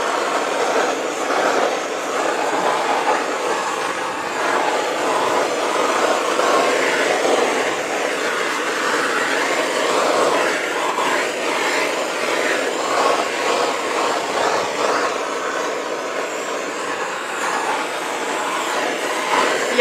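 A torch flame plays over freshly poured fluid acrylic paint in a dustpan ribbon pour, producing a steady, close, breathy roar that holds for about twenty seconds without any talking.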